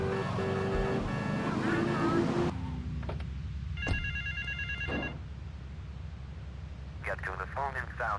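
In GTA 3, a payphone rings with a bright, repeating electronic trill that comes in short bursts. Steady street and engine noise from the game world runs underneath the whole time.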